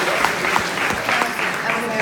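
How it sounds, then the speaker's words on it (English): University audience applauds a volunteer at a stage hypnosis show, a steady patter of clapping with audible individual claps while a voice talks over it. "Give her a big round of applause."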